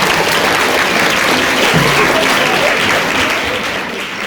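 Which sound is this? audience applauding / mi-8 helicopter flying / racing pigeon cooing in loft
audience applauding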